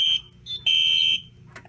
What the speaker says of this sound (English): The detector is a 135 degree detector, or a 15 degree per minute rate of rise. And so I just set it off with a hair dryer.